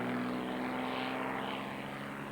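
A propeller aerobatic plane flown by Vic Norman roars steadily overhead during a flying display, the engine drone rising and falling in pitch as it pulls out of flick manoeuvres, continuous and moderately distant.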